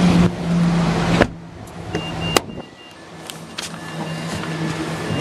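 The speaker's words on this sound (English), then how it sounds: "Power windows all round." Power windows on a manual Mitsubishi L200 Executive pickup whirring up and down inside the cab, a steady electric motor hum with a few sharp clicks and stops, close and moderately loud with no talk.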